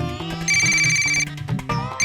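A mobile phone ringtone plays loudly and steadily for about two seconds, a bright electronic melodic tone with repeating beeps, heard on its own with no talking, in an indoor scene from a Hindi fantasy TV show.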